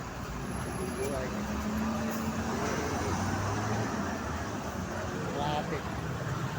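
Steady road traffic with a continuous rumble of passing cars and heavier vehicles, fairly close, and faint voices in the background.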